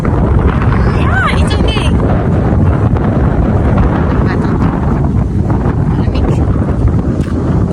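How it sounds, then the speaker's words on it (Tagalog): Strong wind blows across the microphone in a park during a cold Canadian day, a steady loud buffeting rumble throughout, with people talking briefly under it. "Palapas ng hangin. Hangin lang naman yan."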